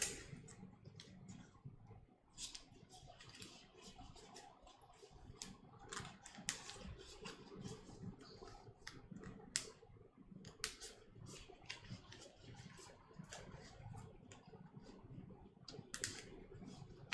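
Sleeved KeyForge cards being shuffled by hand in a quiet room, giving a steady run of soft papery riffles and clicks that keep going throughout, with no talking.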